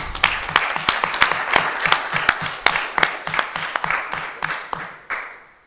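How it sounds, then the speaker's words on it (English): Applause at a legal awareness week award ceremony, with distinct sharp claps standing out from a small group in a rhythmic, uneven pattern, close and fairly loud, thinning out at the end. "Give them a round of applause."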